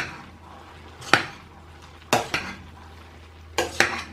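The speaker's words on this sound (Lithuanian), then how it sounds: "Ir išmaišom." Rice pilaf with garlic is stirred in a pot, a spoon scraping and clinking against the metal in a few short separate strokes with quiet pauses between them, close up and alone.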